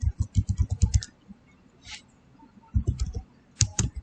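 Fast bursts of typing on a computer keyboard, clustered keystrokes near and crisp, pausing briefly between runs of rapid clicks.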